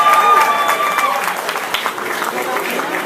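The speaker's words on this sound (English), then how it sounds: "Ralph Mercado III, let's give him a nice round of applause." An audience at a New York foundation event applauds for Ralph Mercado III, a dense, steady round of clapping from the crowd, with a voice briefly audible over it near the start.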